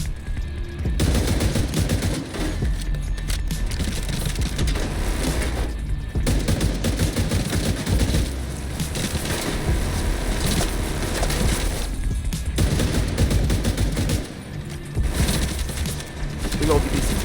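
Exotic rifle fire from The Division plays in long dense bursts of shots, loud and continuous through most of the stretch with a few short pauses.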